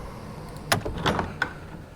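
A door handle is yanked and a door swings open in the Russian horror game Tiny Bunny: a few short mechanical clunks and a creak, close and moderately loud over a low ambient hum.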